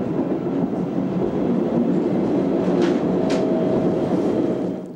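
A Berlin S-Bahn class 480 electric train at Wannsee station, a steady loud rumble of wheels and running gear rolling past close by, with brief high squeals from the rails partway through.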